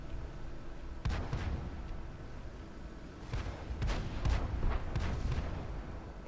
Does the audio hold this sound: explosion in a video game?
yes